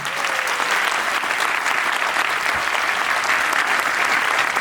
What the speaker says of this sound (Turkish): Hasan Başkanımıza kocaman bir alkış alabilir miyiz?